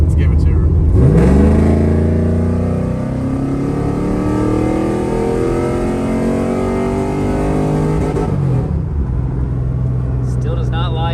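A built Pontiac WS6 engine revs hard on a dyno run, its pitch climbing steadily through the gears as a loud, close roar, then easing off near the end.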